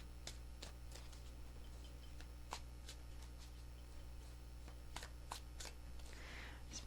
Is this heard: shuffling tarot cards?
yes